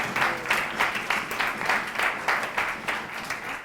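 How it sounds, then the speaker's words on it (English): A school reunion audience applauds in a short, moderately close round of clapping with a loose rhythmic pulse, steady for a few seconds. "And let's applaud this young man"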